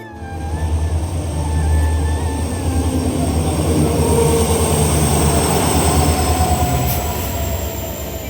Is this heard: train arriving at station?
yes